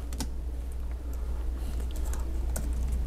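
Rapid clicking of typing on an Earto 2.4 GHz wireless backlit computer keyboard, a steady run of keystrokes close by over a low hum, with no talking.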